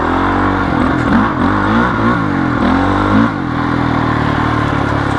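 A 15-year-old Honda CRF450X four-stroke carbureted dirt bike with upgrades, its engine close and loud, revving up and down in quick surges before settling into a steady drone, with no talking.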